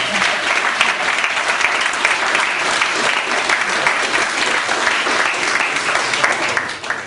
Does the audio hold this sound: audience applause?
yes